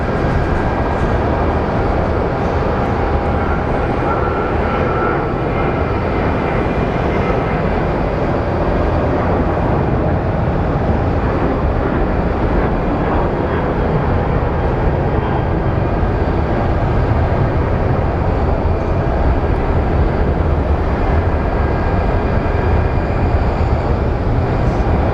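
An airplane landing at Phoenix Sky Harbor Airport gives a loud, steady, broadband roar that holds for the whole stretch without fading, heard from close range with no talking.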